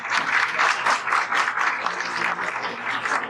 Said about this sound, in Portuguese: Uma salva de palmas aqui para o Fred.